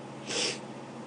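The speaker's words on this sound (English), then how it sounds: "Sorry for all my sniffles." One short, sharp sniff close to the microphone, a brief breathy snort rising and fading within half a second.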